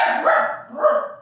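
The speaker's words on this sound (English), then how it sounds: "That's my dog." A dog barks in two short bursts, fairly close, indoors in a home business space, with a brief pause between them and no talking.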